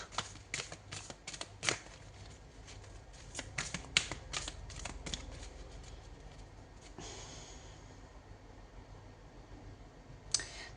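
Tarot cards are shuffled by hand at close range during a reading: quick, soft, papery riffles and slaps in a brisk, irregular rhythm, then quieter handling and a final tap.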